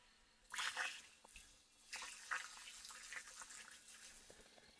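Water pouring into a Georgian Qvevri clay wine vessel during water testing, splashing and gurgling in uneven surges with a louder burst early on, moderately close and without talk.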